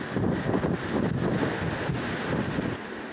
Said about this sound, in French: Mais il y a du vent!